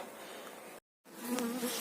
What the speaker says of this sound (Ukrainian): Ось відкрили вулик.